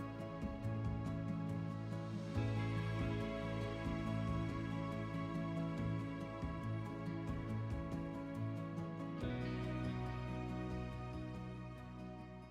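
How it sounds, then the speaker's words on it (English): Steady road traffic rumbles and hisses continuously beside a walking route, a dense wash of passing-vehicle noise that swells briefly partway through, with no talking. "Right, you'll have to excuse the noise of the road."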